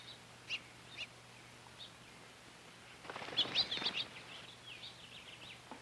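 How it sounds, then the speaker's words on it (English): Blue jay calling at a backyard feeding tray: a few thin, faint chirps early on, then a louder burst of harsh, rapid call notes in the middle, tapering to scattered softer calls over a steady low hum. "But the blue jay wants the tray all to himself."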